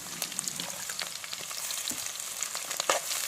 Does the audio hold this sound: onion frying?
yes